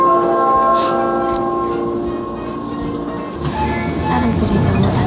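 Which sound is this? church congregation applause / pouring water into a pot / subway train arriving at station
subway train arriving at station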